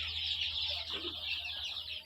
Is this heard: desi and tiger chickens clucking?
yes